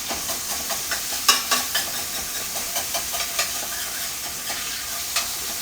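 Pork chops sear in a skillet with a constant close sizzle, broken by scattered sharp pops and spits of fat, with no talking.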